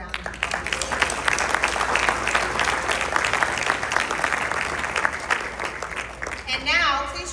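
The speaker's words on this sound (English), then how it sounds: "Let's give them another round of applause." A luncheon audience at an award presentation applauds steadily, a dense wash of clapping that holds loud and even for several seconds before tapering, with a voice rising near the end.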